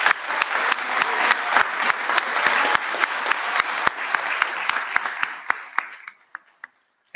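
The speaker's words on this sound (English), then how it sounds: "Let's give them all a round of applause." Audience applause fills a college Black History Month convocation hall, dense and steady clapping close by for about six seconds before thinning to a few scattered claps and dying away.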